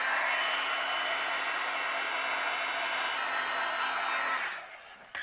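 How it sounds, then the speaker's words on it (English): A heat gun blows a loud, steady, hissing stream of hot air to melt white embossing powder on cardstock, then shuts off and winds down near the end. "I'll use my heat gun and we'll melt it."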